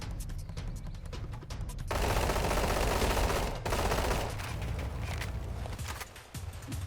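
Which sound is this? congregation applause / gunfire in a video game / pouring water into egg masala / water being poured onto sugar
gunfire in a video game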